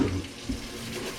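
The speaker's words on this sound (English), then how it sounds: "Gonna give them a quick rinse" Running water pours steadily from a kitchen faucet, a continuous splashing rush with no voices.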